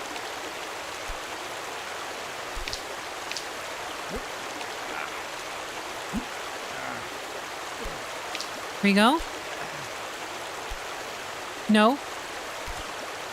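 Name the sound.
flowing water in a climbing video game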